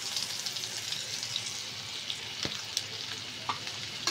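Chopped onion and green chili frying in a pan on a home stove, giving a steady close sizzle with a few scattered clinks and stirring scrapes.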